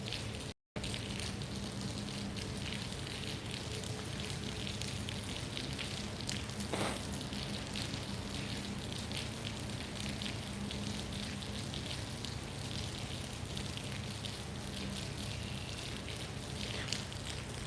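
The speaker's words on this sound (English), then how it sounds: "we can hear the rain falling" Rain falls in a steady, dense hiss with a constant patter of drops that runs the whole stretch without a break.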